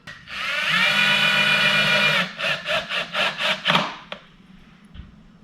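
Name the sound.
power drill driving screws to install a door security lock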